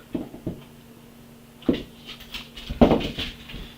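A dog plays with a bone indoors, producing scattered soft thumps and knocks with faint whimpers and panting, irregular and fairly quiet against a low background hum.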